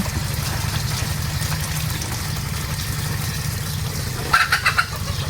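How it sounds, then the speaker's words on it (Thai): A chicken gives a brief, close burst of clucking near the end, over a steady low engine-like hum in a rural outdoor setting. "อู้ ไก่"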